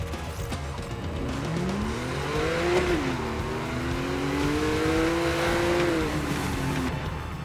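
Revving race car engine spinning its wheels at the start line in Need for Speed: Most Wanted, a sustained rising and falling engine whine with tire noise, loud and steady throughout.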